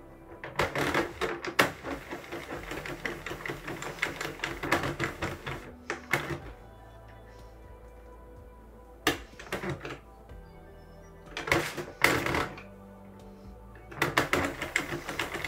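A Sentro/Addi circular knitting machine being hand-cranked, rapid clattering plastic clicks in bursts with pauses between, fairly close and moderately loud.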